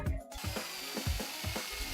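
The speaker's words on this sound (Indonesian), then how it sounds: "Bor hingga plastik klip yang terakhir." A power drill drives screws into plastic clips on WPC composite decking, with repeated short ratcheting whirs and mechanical bursts in close succession, near and fairly loud.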